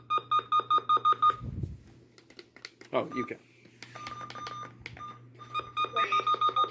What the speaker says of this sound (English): those are the valid beeps for the SEMA